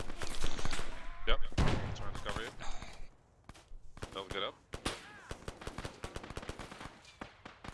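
Gunfire in an ArmA 3 Vietnam firefight: sporadic, fairly faint bursts and single shots crack in irregular clusters, with players talking over the shooting throughout.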